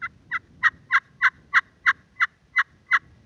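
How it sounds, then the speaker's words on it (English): A friction slate call worked with a striker produces a turkey yelp: a steady series of about ten evenly spaced, raspy notes, clear and close with little background. "You can feel the yelp coming off the striker, and that's your basic yelp."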